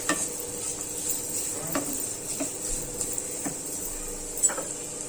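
Carrots being stirred in hot oil in a pan, a quiet continuous sizzle with faint hiss, broken by a few sharp scraping knocks of a spoon against the pan; no voices.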